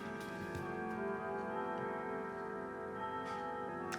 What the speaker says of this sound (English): our grandfather clock.